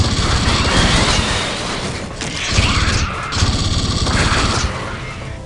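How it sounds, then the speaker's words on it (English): Pulse rifle fire in the video game Aliens vs Predator 2, a dense, loud, continuous mechanical rattle of rapid shots with brief gaps and shifting ambient game sounds layered underneath. "The pulse rifle feels as it should. It has this wonderful noise that you would expect"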